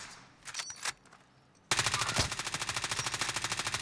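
Enemy gunfire in the Warzone video game: a few sharp shots, a brief lull, then a loud rapid automatic burst hammering out in a fast even rhythm until the end.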